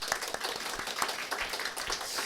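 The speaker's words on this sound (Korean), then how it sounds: "감사와 영광의 박수를 올려드립시다" A church congregation claps during a Sunday sermon, the applause soft and somewhat distant, a steady patter of many hands with individual claps faintly distinguishable.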